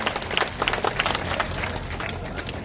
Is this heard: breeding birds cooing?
no